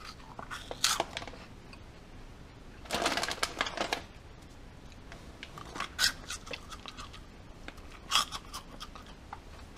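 Close, crisp crunching of a puffy cheese curl snack while chewing, with several sharp bursts of bites and crackles spread among softer chewing sounds, no talk.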